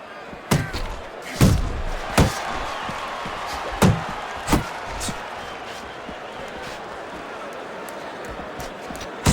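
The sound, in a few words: boxing punches landing in video game Fight Night Champion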